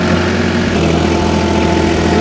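A Farmtrac 45 tractor engine runs loud and close at a steady, heavy rumble during an RPM drop test, droning without pause.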